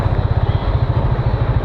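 A Yamaha FZ25 motorcycle engine drones steadily on a test ride, a close, loud low-pitched rumble with a fast regular pulsing beat and no talk.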